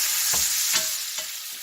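A T-bone steak sears in a pan with thyme and rosemary while being basted, giving a loud, steady sizzle broken by three brief scraping stirs.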